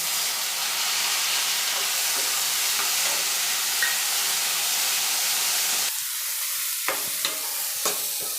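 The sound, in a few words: onion and chopped tomato frying in a pan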